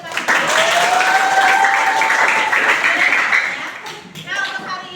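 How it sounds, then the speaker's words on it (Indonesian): A classroom of students claps together in a lively, dense burst, with children's voices calling out over the clapping before it thins near the end. "Tepuk tangan untuk kita semua."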